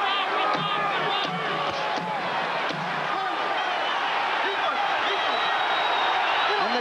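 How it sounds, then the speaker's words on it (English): A boxing arena crowd roars and cheers continuously at a fight's end, a dense, loud wall of voices with scattered shouts. "And the crowd is up on its feet."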